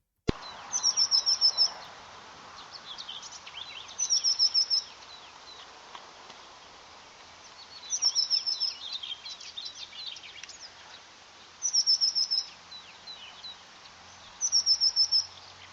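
A recorded bird sings in repeated bright, high chirping phrases every few seconds, fairly close and clear, with fainter calls from another bird and light background noise between the bursts.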